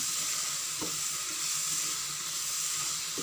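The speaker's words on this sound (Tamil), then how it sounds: "ஸோ இந்த மாதிரி வந்து நல்லா வந்து அந்த சுகர் வந்து மெல்ட் ஆகிற வரைக்கும் கொஞ்சம் நல்லா வந்து ஃப்ரை பண்ணிவிட்டு" Pineapple with sugar sizzling and frying in a pan, a steady close hiss running throughout with faint stirring knocks.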